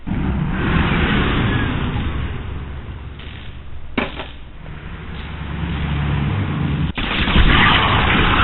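Watchtowers with armor-piercing ammo upgrades firing on shock troopers in a strategy video game: continuous loud rumbling gunfire and battle noise with a few sharp bursts, dense and unbroken throughout.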